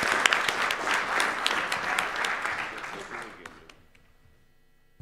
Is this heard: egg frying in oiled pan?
no